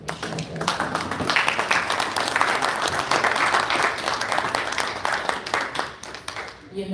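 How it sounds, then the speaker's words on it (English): An audience at a cyber harassment and bullying conference applauds, with dense hand clapping swelling and holding for several seconds before tapering off, as a voice talks over it. "A bigger hand clap. Very big hand clap."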